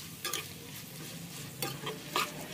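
Ginger garlic paste frying in oil is stirred in a pan, a soft steady sizzle broken by a few short scraping strokes, close and alone.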